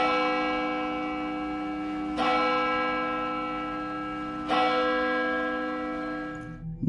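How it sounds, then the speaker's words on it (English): Two loud, resonant church bell strikes a couple of seconds apart, each ringing out with a long, echoing hum that slowly fades. "I hear loud bells echoing throughout the church upstairs."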